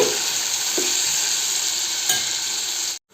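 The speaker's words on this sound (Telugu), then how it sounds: "మనం ముందుగా కట్ చేసుకున్న మష్రూమ్ ముక్కల్ని ఇందులో వేసుకోవాలండి ఇలా మంచిగా కలుపుకోవాలి" Cut mushroom pieces sizzling in a hot pan with onion masala for a mushroom curry, a steady loud hiss with a few soft stirring scrapes, close by, ending abruptly.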